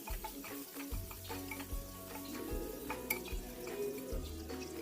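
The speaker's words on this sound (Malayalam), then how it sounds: "ഒരുപാടങ്ങ് വഴറ്റിയെടുക്കണ്ട, ഇതുപോലെ ഒന്ന് കളർ മാറുന്നത് വരെ വഴറ്റാം" Butter chicken masala sautés in a pan, a soft steady sizzle with stirring scrapes and light utensil clinks throughout, fairly quiet and with no talking.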